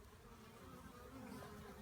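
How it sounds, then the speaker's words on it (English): Newly hatched honeybees fly around their hive on their first orientation flights, a steady, close buzzing drone of many wings that carries on without a break. "So they're all just trying out their wings, seeing what it's like to fly, orienting themselves to the hive"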